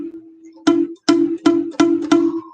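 Acoustic guitar string fretted too lightly on a beginner guitar, a held note followed by five quick plucks that sound short and choked, cutting off instead of ringing out, close and alone.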